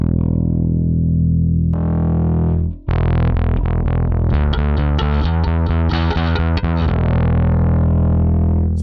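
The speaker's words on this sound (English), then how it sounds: "Let's take the boost comp out for now, so you can hear what the bass amp does." Electric bass guitar played through the Valeton Dapper Bass Mini's amp simulation, a sustained distorted note, then a brief gap and a run of rapid, punchy plucked notes with gritty overdrive, loud and close.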